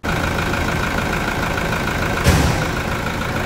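A 2011 Toyota Hilux 3.0 diesel engine runs steadily at idle, a loud, continuous close-up drone with a brief louder surge midway.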